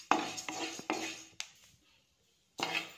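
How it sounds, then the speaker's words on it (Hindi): A utensil scrapes and clinks against a pan while moong dal is stirred and roasted, several distinct close scraping strokes, a brief silent pause, then another stroke. "इस तरीके से ही चलाते हुए मैं इसे 1 मिनट के लिए और भूनूंगी।"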